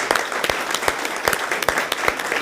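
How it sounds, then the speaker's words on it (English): Audience applause fills a city council meeting chamber in Tampa, a steady wash of many hands clapping with sharper individual claps popping through, moderately loud and close, with no talk over it. "Let's give him another round of applause."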